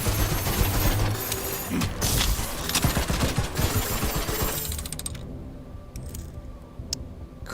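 Rapid bursts of gunfire from a first-person shooter video game crackle almost continuously for several seconds, loud and dense, then thin out into a few scattered shots and metallic clicks.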